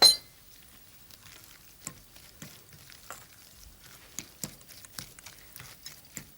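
Ricotta cannoli filling with vanilla and sweet vermouth is stirred by hand, giving scattered soft scrapes and light clinks of a utensil against the container. The sounds are spaced irregularly, close and fairly quiet, with no talking.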